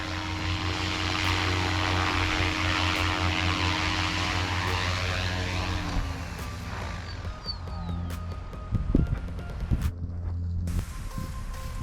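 A SAB Goblin 380 RC helicopter flies with a loud, steady whine from its rotor and motor. The sound runs unbroken for about twelve seconds, and its pitch shifts and wavers toward the end. No one speaks.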